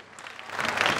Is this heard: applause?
yes